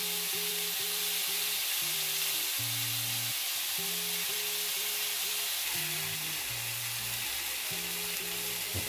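Salmon fillets sizzle on a hot grill, a continuous close hiss and crackle that stays even throughout, with soft melodic music underneath.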